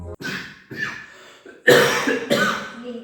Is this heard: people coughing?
yes